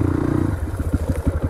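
An off-road motorcycle rattles and clatters up close, a rapid loud mechanical chatter that grows looser and more uneven over a deep engine rumble.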